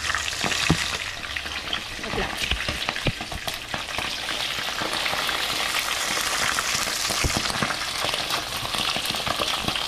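Tulingan fish frying in hot oil until brown, a steady loud sizzle with crackling pops and occasional utensil clinks throughout.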